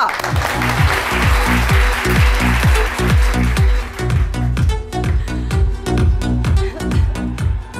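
Studio audience applause welcoming a guest onto a weekend talk show, a dense burst of clapping riding over loud rhythmic music with a steady beat; the clapping is strongest early and then thins out while the music carries on.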